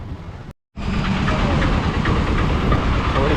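Train noise at Nagercoil railway station, a steady loud rumble with clattering wheels broken by a short silent gap early on, with no talking.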